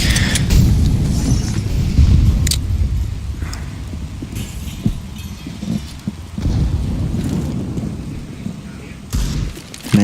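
Grenade explosions during a CS:GO esports match, a series of loud booming bursts and thuds rising and falling throughout amid game noise and faint commentary.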